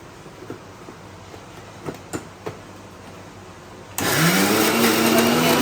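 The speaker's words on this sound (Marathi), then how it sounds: "परत आपण एकदा मिक्सर लावायचं" A mixer grinder churns soaked lentil batter for medu vada: after a quiet stretch with a few light knocks, its motor kicks in abruptly with a loud, steady whirring roar that runs to the end.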